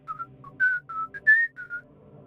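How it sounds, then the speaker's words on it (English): The Old Spice whistle tune in the soundtrack of the Blair Witch Volume 1: Rustin Parr video game: a short melodic whistled phrase of about eight clear notes, heard alone and fairly close. "that is in the game soundtrack. The Old Spice whistle is in here."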